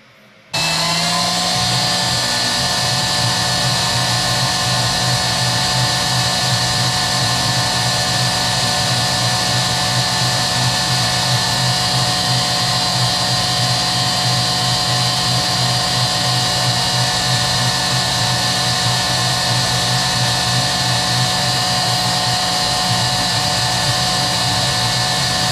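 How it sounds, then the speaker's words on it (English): CNC mill cutting 17-4 stainless steel, adaptive-clearing a large window into a 1911 pistol slide with a big end mill: a loud, steady, continuous high whine with a constant motor drone, running unbroken after a brief quiet start. "I'm then going to again use that big bit to get that big window with a adaptive clearing path"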